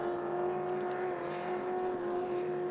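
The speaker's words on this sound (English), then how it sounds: "a 3-point-something litre quad cam, 4-valve per cylinder, 4-stroke engine" A 3-litre-plus quad-cam, four-valve-per-cylinder four-stroke racing engine at Glenmaggie Cup practice, giving off a loud, steady tonal drone that holds nearly constant throughout with no clear rise or fade.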